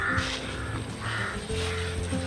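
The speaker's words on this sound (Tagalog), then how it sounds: "Daming uwak kaya bulabog." Crows cawing over a cornfield, several birds giving repeated harsh calls in bursts against steady outdoor background noise, with no talking.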